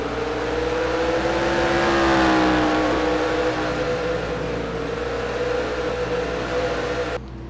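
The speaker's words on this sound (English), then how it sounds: "Now we'll see if his Oldsmobile can chase down Rudd's Buick" Oldsmobile and Buick stock cars racing at Martinsville in NASCAR Racing 2003, engines droning steadily at close range with rising and falling pitch as they accelerate, a continuous loud roar with no talk.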